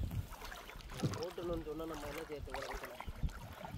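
A wooden raft drifts along a river, with soft water lapping and splashing and light wind noise close by while people talk over it.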